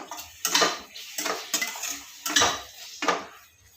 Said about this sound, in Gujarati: અહીંયા મેં ટમેટા લીધા છે ચારના એને ઝીણા ઝીણા સમારી લીધા છે એ ઉમેરી દઈશું મિક્સ કરી લઈશું